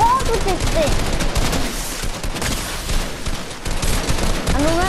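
Rapid bursts of automatic gunfire from the Fortnite video game, with a weapon firing multiple shots in quick succession at a steady, loud level throughout.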